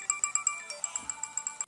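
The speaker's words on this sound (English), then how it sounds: "my phone's blowing up how it always does" A mobile phone ringtone chirps in a fast, repeating pattern of short bright tones, clear and fairly close with nothing else over it.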